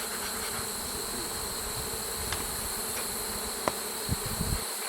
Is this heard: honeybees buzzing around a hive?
yes